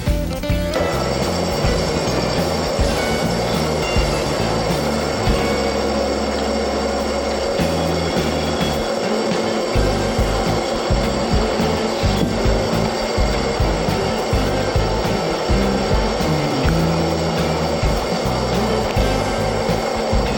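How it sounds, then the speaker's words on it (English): A metal lathe takes a slow, shallow finishing cut at about 40 RPM with a high-speed steel bit, giving a loud, continuous scraping and rasping grind with a rough, uneven texture that carries on without a break. "In the finishing cutting, the rotation speed is low and the depth of the cut is shallow"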